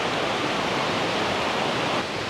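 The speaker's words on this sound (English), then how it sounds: "up here is the secondary waterfall, which is really nice. It's really powerful actually." A powerful waterfall in Ubud roars as steady, dense broadband rushing water, close and loud, with no voices over it.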